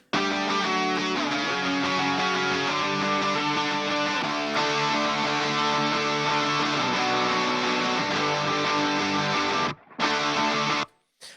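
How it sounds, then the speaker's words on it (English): Layered electric guitars from a rock mix, heard as a loud, dense, sustained wall of chords and notes that cuts out briefly near the end before returning, with no voices. "here we have some guitars and they sound like this"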